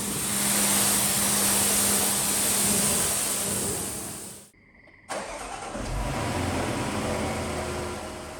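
A Range Rover Sport being driven into a garage after a pressure wash: a steady engine hum with a brief gap, then the engine running again at idle, close by and with no voices.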